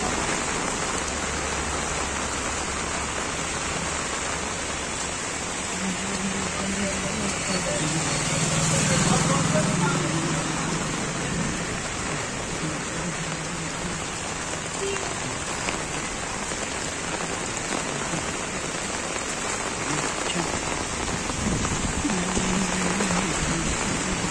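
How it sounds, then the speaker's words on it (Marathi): Heavy monsoon rain pours steadily in Manvelpada, Virar, a dense constant hiss of drops hitting surfaces and standing water, loud and unbroken throughout, with faint passing traffic. "एकदम जोरदार पाऊस आहे मित्रांनो."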